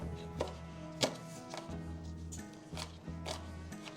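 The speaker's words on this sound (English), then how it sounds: "Okay, we're going to get this chopped nice and finely." A knife chops shallot finely on a board, with several crisp, evenly spaced chops over a steady low hum, moderately close.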